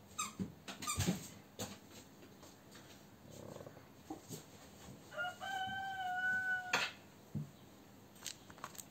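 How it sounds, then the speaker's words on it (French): A rooster crows once in the middle distance, a rising drawn-out call over a background of small clicks and handling noises in a quiet room. "Ah, merci le coq."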